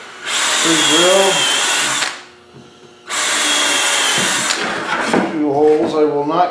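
A power drill pre-drilling holes in wood for a bench whines loudly in two bursts with a short pause between, the second burst trailing into a voice speaking.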